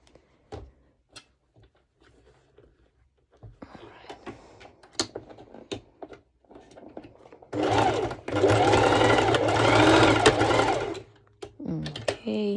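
A sewing machine securing a stitch on a crop top, first a few scattered clicks and short taps, then a sustained fast mechanical whirr of stitching for about three seconds, with a voice speaking around it.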